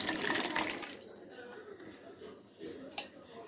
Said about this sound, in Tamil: இதிலே கொஞ்சம் தண்ணி ஊற்றிக்கலாம்.